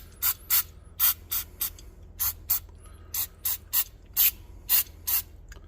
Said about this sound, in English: So use some brake clean, carburetor clean, you know, whatever works.